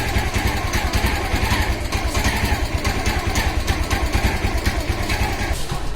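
A motorcycle engine idles steadily while warming up, a close, even rumble with no revving and no voices.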